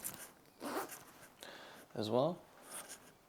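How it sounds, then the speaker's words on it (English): A double zip on a simple black jacket with silver details runs in a few short bursts, close and fairly quiet, between a man's spoken remarks. "It's a double zip"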